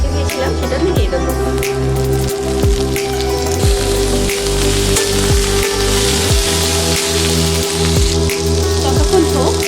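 Chopped tomato hits a sizzling pan of bhola fish curry, giving a loud, close crackling fry with a steady low hum and rhythmic knocking underneath, and no speech.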